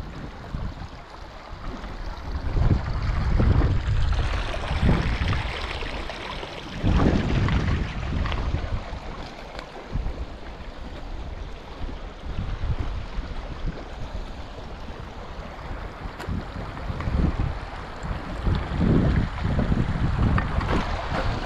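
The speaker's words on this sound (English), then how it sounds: "Good thing there's a wind." Wind blowing outdoors in the Arizona desert while prospecting for gold, a loud continuous rumbling gust noise buffeting close to the microphone, swelling and easing over about twenty seconds with no talk.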